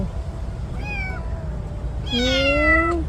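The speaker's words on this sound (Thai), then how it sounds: "ทุกคนคะเป็นแมวดำ สวยมาก สีสม่ำเสมอกันเลยค่ะ แล้วก็ขนยาว" A long-haired black cat meows twice, a short rising call followed after a pause by a louder, longer drawn-out meow, close by over a low background hum with no talking.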